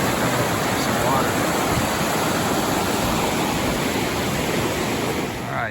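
Rushing water of a river fork in the Wallowa Mountains, a loud, close, steady broadband roar that continues unbroken before easing slightly at the very end.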